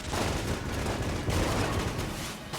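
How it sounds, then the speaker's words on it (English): Dense, continuous gunfire and explosions from the Enter the Gungeon video game, with projectiles bursting as a duck-powered weapon fires, a loud unbroken barrage filling the whole stretch. "the ducks are causing explosions on his projectiles when he fires"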